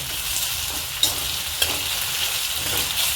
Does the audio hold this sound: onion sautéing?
yes